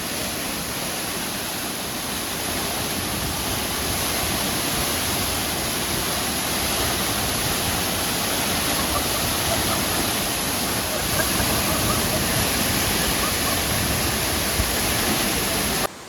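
The fast, powerful waterfall at Lata Kinjang in Tapah, Perak, Malaysia roars close by as a loud, continuous, unbroken rush of water that holds steady throughout.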